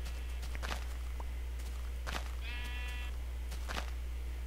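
A Minecraft sheep gives a single short bleat partway through, set among soft footstep-like taps and a steady low hum, with no talk.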